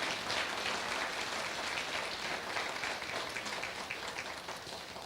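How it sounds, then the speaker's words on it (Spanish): A church congregation gives a strong round of applause to the Lord, a faint but continuous wash of many hands clapping throughout without talk, slowly tapering near the end. "si tú gustas darle un fuerte aplauso al Señor."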